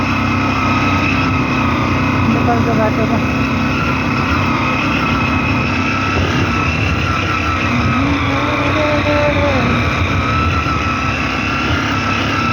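A motorcycle engine drones loudly and steadily while riding a Nepalese mountain road broken up by a recent landslide, with road and wind rumble throughout and a few brief spoken words.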